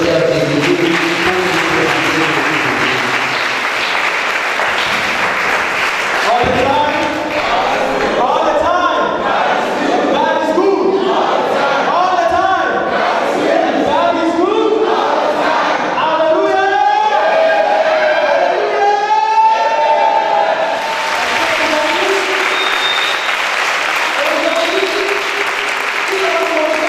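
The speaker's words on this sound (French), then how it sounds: "Sur vos acclamations, nous allons accueillir le docteur Bénédicte." An audience cheers and applauds to welcome Dr. Bénédicte at a church gathering in Togo, sustained loud clapping and shouts filling the room, with voices calling out through it.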